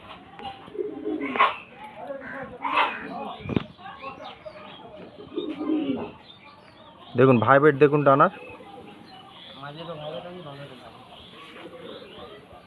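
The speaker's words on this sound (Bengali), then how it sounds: "খুব সুন্দর পায়রা" Pigeons coo softly beneath someone talking close by, with one louder burst of cooing rising near the middle.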